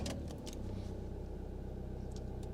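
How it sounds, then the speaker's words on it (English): A WildAx Solaris XL campervan's engine starts, a brief crank giving way to a steady low idle that runs on throughout, close and fairly loud, with no talking. "Start the engine"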